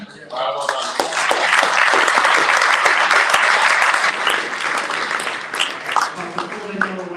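A crowd applauds startup pitch teams at a weekend startup event, steady clapping swelling after a brief spoken opening and tapering slightly, with voices heard over it near the start and end.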